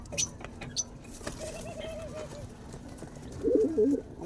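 Domestic pigeons in a Filipino backyard coo softly, with a few low rolling calls rising near the end over faint background noise and distant birds.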